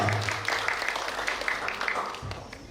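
Applause for a team during a city-level school quiz competition final in Palembang, steady clapping from an audience in a hall lasting a few seconds at moderate level.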